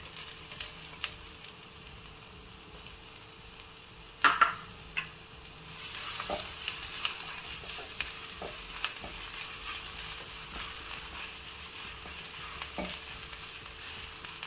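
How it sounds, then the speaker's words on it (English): Shrimp sizzle in garlic butter in a hot pan, a soft steady crackle and hiss with a few clinks of a utensil, growing busier partway through. "As the shrimp sizzles in that garlic butter, the kitchen smells absolutely amazing"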